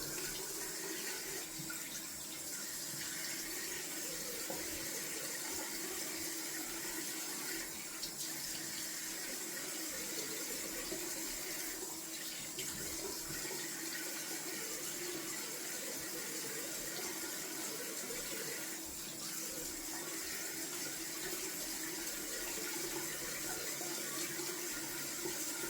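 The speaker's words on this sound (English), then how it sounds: "Going down for a cold water rinse, see if I can rinse off this slick craziness." Cold tap water runs steadily into a sink during a face rinse after shaving, a continuous close hiss and splash with slight shifts as hands move through the stream, no talking.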